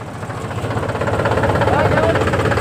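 A farm tractor engine idles close by with a steady, rhythmic throbbing pulse that grows slightly louder, and some talk is mixed in.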